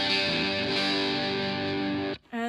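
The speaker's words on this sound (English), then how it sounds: "I've just made that sound pretty much like a really nice, thick, creamy overdrive." Thick, saturated overdriven electric guitar through a Boss DS-1 distortion pedal holding a sustained chord, loud and steady, cutting off briefly near the end before a short restart.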